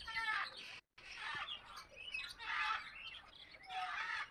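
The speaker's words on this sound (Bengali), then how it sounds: "কালো কাকাতুয়া, আফ্রিকান গে প্যারট" African grey parrots and black cockatoos at a mini zoo in Kolkata give repeated harsh squawks and chirps in several bursts over a few seconds. The calls are moderately close and sound alone, with no talk.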